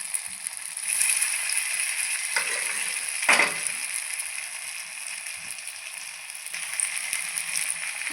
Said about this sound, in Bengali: তো তেল গরম হয়ে গেছে। তো এখন আমি পকোড়াগুলো ছেড়ে দিব।